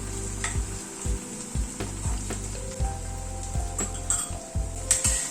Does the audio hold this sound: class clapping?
no